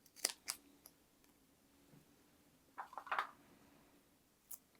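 Scissors cutting a strip of double-sided tape while fixing a sketchbook, a few quiet crisp snips and tape rustles heard close, separated by near silence.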